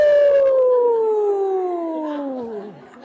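A human voice imitates a baby coyote howling, one long drawn-out wail sliding slowly downward in pitch and fading over about three seconds, close and clear.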